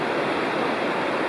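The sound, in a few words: waterfall at Bald River Falls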